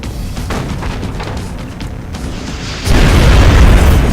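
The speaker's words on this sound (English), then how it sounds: "And the vehicle explosion takes out the cyber disc." A vehicle explodes in the strategy video game XCOM: Enemy Unknown, with a loud booming blast partway through followed by a sustained heavy rumble, after quieter scattered game sounds.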